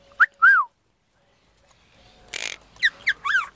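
A parrot gives a few short, bright whistles, falls quiet for a moment, then whistles several more rising and falling notes.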